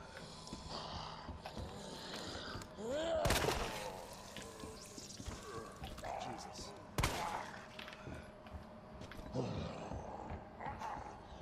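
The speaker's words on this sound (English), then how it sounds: "Shotgun." A shotgun fires in the Resident Evil 2 Remake game, with two loud sharp blasts several seconds apart amid growling creature sounds and game ambience, while a player talks in between.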